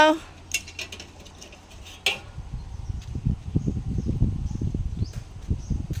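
A spoon scoops food from a dish with a few sharp clinks of metal on a plate, followed by softer, busier scraping and rustling close by.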